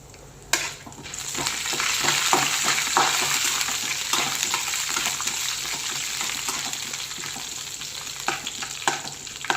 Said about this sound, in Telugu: కొంచెం పచ్చిశనగపప్పు, మినప్పప్పు, ఇవి బాగా వేగాలండి